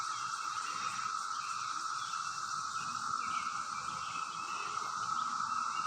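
Periodical cicadas, the 17-year kind, sing in a wooded area as a steady, unbroken droning chorus that stays even and fairly distant throughout, with no talking.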